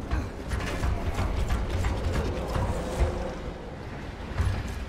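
A door-opening mechanism in the video game Gears of War grinds and ratchets continuously, a dense mechanical clatter of gears and pawls running steadily.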